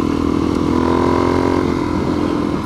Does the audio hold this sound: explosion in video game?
no